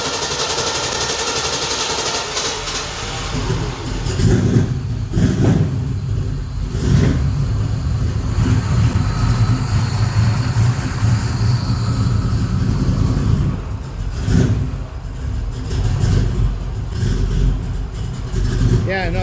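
A car engine runs steadily up close, its low rumble swelling and easing as it is revved a few times.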